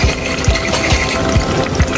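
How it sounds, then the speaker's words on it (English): Water poured into a pan of tomato pasta sauce for American-style spaghetti, a steady close splashing gush that runs the whole time with no talking over it. "And then I'm gonna add a little bit of water."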